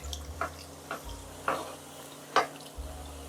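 Batter-coated meat pastries (belyashi) frying in hot oil in a skillet, a soft steady sizzle with a few light clinks and scrapes spaced through it, close and fairly quiet.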